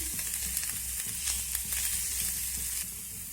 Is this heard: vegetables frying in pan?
yes